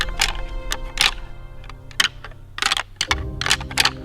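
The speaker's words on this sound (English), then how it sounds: "I took that black rack and I smacked it together as hard as I could." Repeated hard clacks and rattles of antlers smacked together, irregular bursts in quick succession with a low steady hum underneath.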